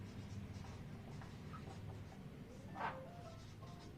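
A teacher writes points on a board with faint, scratchy strokes, a few sharper taps standing out against a quiet room.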